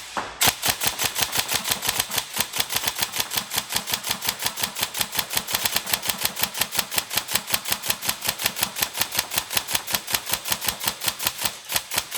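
A Tokyo Marui MK18 NGRS airsoft rifle firing 0.32 g BBs in sustained full-auto, a rapid, evenly spaced mechanical clatter of sharp cracks at roughly eight shots a second, close and loud, running nonstop for about twelve seconds.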